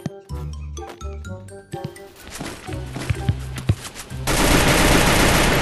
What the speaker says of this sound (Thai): ยิงก่อนครับเพื่อเก็บปืนได้ต้องยิงก่อน